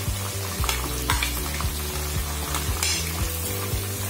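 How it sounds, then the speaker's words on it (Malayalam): Sliced onions and curry leaves sautéing in hot oil in a pan, a dense near sizzle broken by regular scraping strokes of a spatula, with a few sharper clinks. "നല്ലവണ്ണം വഴറ്റിയെടുക്കുക"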